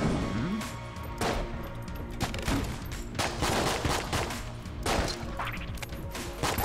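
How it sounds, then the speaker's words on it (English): Rapid cartoonish gunshots in the bullet-hell game Enter the Gungeon, a steady stream of loud close pops and impacts layered over game music. "there you go, you shoot bullets"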